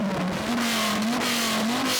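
A third-generation Dodge Viper engine revving hard, a loud sustained growl whose pitch wavers up and down as the throttle is worked.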